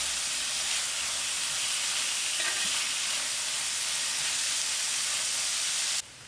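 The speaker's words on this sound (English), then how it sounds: "you can see how nice the dal is frying" Mung bean dal fries in masala in a pan with a steady, close sizzle and hiss that runs unbroken for several seconds before cutting off abruptly near the end.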